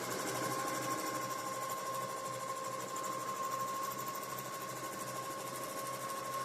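A sewing machine runs free motion quilting on a hoop quilt frame, holding a steady, fast, whirring mechanical drone with a constant tone for several seconds, alone and close.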